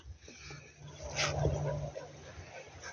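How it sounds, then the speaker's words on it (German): Two dogs growling at each other, a low rumbling snarl that swells in the middle and then eases off, fairly close and moderately loud over outdoor background noise. "Die knurren sich ständig an."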